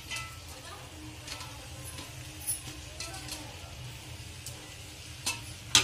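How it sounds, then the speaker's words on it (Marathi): Cauliflower stir-fries in hot oil for a dhaba-style mixed vegetable Kolhapuri, giving a faint, steady sizzle with a few light scraping and clinking stirs and a clatter at the end. "फ्लॉवर टाकून आपल्याला परत हा तेलामध्ये असा परतून"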